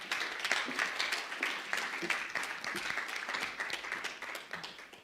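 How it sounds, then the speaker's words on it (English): Audience applause for a winner at a women's empowerment award event, steady mixed clapping carried across the whole stretch with faint voices underneath. "Big round of applause"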